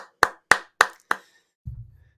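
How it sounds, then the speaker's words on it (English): One person clapping slowly at the close of a Wushu strength training session, four sharp, evenly spaced claps in a quiet room, followed by a brief low thump. "A big and round applause for you."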